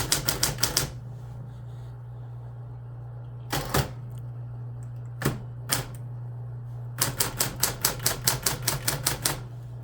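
Keys clacking on a mechanical typewriter: a quick burst of strikes, a pause, scattered single taps, then a long rapid run of keystrokes, close and crisp over a steady low hum.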